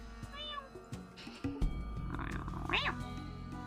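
A person imitates a cat with a few meow-like vocal calls, heard over background game sounds and music in a Fallout 2 playthrough.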